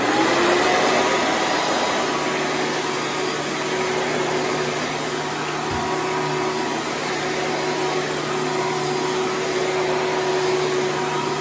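A Hoover Preferred vacuum cleaner runs steadily indoors in a day room, a loud, constant motor whine and airflow rush with no pauses or talk.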